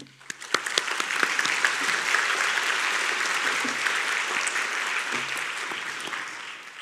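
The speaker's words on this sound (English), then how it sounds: "You deserve a big round of applause." Steady applause from a large graduation ceremony audience fills the whole stretch, dense and sustained with a few sharper claps near the start, fading slightly toward the end.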